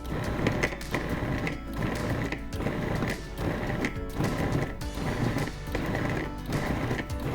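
A food processor pulses cold butter into homemade buttermilk biscuit dough, a loud whirring chop in short repeated bursts with brief gaps, steady and close.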